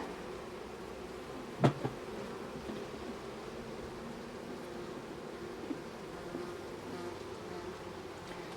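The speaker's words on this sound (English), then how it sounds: "Get out of it, bumblebee." A bumblebee buzzes around exposed honeycomb beside a beehive nuc and feeder, a low, steady insect drone close by under outdoor background noise, with one sharp knock partway through.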